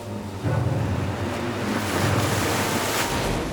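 Storm winds and heavy waves churn on the open North Sea, a steady, loud roar of rushing wind and crashing water with no voices, building slightly toward the end.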